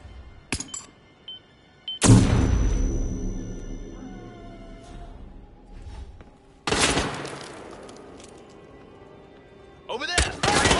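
Gunfire in the Hitman video game: a few sharp single shots, then two long, loud bursts of rapid firing with ringing decay and debris clatter, separated by quieter gaps.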